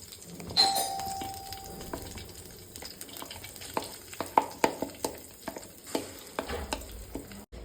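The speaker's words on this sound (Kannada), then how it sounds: "ಈ ಮಸಾಲೆ ಎಲ್ಲ ಚೆನ್ನಾಗಿ ಫ್ರೈ ಆಗಿ ಈ ಕಲರ್ ಹೋಗಿ ಡಾರ್ಕ್ ಬ್ರೌನ್ ಬರಬೇಕು." Ground masala fries in ghee in a pan for a Mangalorean chicken ghee roast, giving a continuous sizzle with a brisk series of spatula scrapes and clicks close by. A short bright ring sounds near the start.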